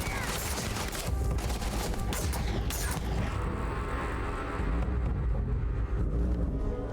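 Rapid double-shot gunfire from a weapon in the game Starfield, loud and continuous bursts of shots dense across the whole stretch with mechanical clatter beneath.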